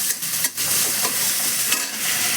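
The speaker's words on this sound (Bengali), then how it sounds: "পেঁয়াজটা ভাজা হবে ভালো করে" Onion fries in a wok with a loud, steady hiss and sizzle throughout, broken by a few scraping stirs from a spatula.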